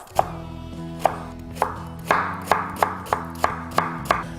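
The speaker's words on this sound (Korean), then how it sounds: "그 다음에 당근도 채를 썰어주세요" Carrots julienned with a knife on a cutting board, making about ten crisp, evenly spaced chops that are close and loud, with no talking.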